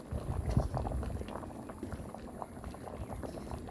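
A pot of Jamaican red peas soup with pig tail, cow skin and dumplings bubbles at a steady, continuous boil, close and moderately loud, with no voices.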